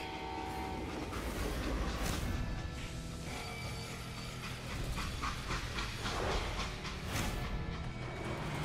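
A train in the video game Call of Juarez: Gunslinger rumbles along steadily with rattling, clattering wheels and a broad mechanical roar, continuous and fairly loud throughout.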